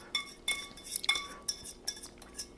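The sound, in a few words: grabbing a spatula among utensils, clinking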